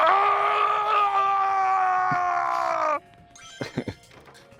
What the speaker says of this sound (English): The Howie scream.